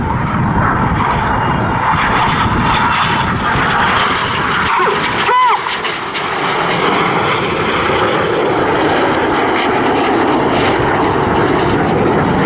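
RAF Red Arrows display jets roaring past at the Southport Airshow, a loud continuous engine rush that swells and shifts as the aircraft fly through barrel rolls, with a faint announcer voice underneath.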